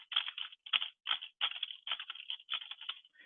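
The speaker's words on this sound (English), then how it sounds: "They're sitting there typing in the background" Keyboard typing heard in the background of a three-way phone call, a quick irregular patter of clicky keystrokes in short bursts with brief pauses, fairly faint and with no voices.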